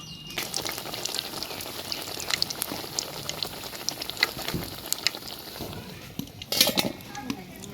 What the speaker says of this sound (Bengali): এই চপটা খাওয়ার জন্য কয়েকটা ভাজছি